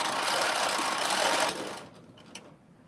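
A sewing machine runs at a short stitch length, buzzing steadily and close for about a second and a half before stopping, leaving a few faint clicks.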